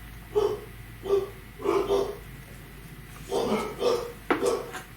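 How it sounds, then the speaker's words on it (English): Dogs barking in a home, a series of short barks and yips in uneven bursts, moderately close and fairly loud. "Please forgive my dogs, they have no manners."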